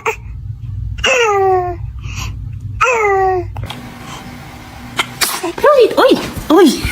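A baby sneezes twice in quick succession, each a sharp, close burst of breathy squealing, followed by an adult voice talking and cooing softly in the room.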